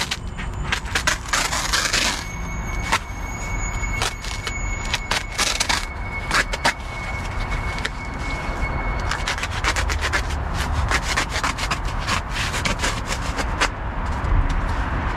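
Repair tape for a boat cover being sliced down the middle, a close, scratchy, rasping cutting sound with irregular strokes and crinkling plastic over continuous outdoor background noise.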